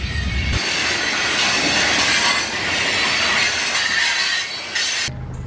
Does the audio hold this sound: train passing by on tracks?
yes